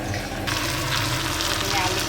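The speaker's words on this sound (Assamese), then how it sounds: "এইপিনে আলু ভাজি আছোঁ" Potatoes frying in a pan in a home kitchen, a dense steady sizzle of hot oil up close that brightens partway through, with no clear talk over it.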